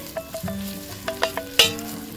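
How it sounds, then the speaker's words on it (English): Onions and garlic drop into a hot pot for lamb shanks, giving several short sizzling bursts with crackles and pops, the loudest near the end, over a low steady frying hiss. "You'll get a nice sizzle just as they pop in there as well."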